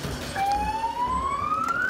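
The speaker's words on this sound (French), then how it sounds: "Allume, tu peux mettre la sirène." A police siren sweeps steadily upward, rising in pitch, over a dense rumble of outdoor crowd and traffic noise in São Paulo.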